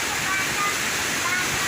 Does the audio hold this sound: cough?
no